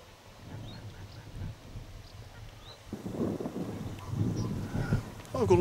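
Ducks on a countryside pond in the Malvern Hills give low honking, quacking calls in clusters, nearby and moderately loud, over wind noise on the microphone.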